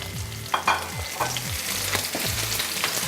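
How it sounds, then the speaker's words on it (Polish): Onions crackle and sizzle in very hot fat for caponata with salmon, with a steady frying hiss and occasional scraping stirs. "słychać zapewne, że cebula, że tłuszcz jest mocno rozgrzany"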